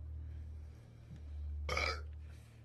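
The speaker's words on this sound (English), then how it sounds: "I think I got a burp." A single throaty burp from a person bursts out loud and close for about a third of a second, standing alone over a steady low hum with no talk around it.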